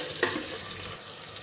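Sliced onions go into hot oil with a short thump, then fry in a soft, steady sizzle close by.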